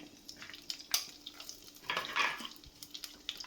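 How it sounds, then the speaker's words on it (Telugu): Tempering spices fry in a pan of hot ghee and oil, giving a low, uneven crackle with intermittent stirring scrapes and small clinks, fairly quiet with no voices. "ఆయిల్ లేదా నెయ్యి వేడైన తర్వాత మన పోపు దినుసులు ఏవైతే ఉంటాయి కదా అవి"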